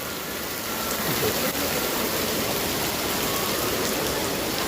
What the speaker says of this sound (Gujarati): તો મિત્રો અમારે તો આવ્યો છે વરસાદ